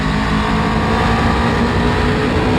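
Aprilia Tuono 1100 V4 1077cc supernaked motorcycle engine on a hill climb road, a steady loud dense drone with wind rush, continuous and close throughout.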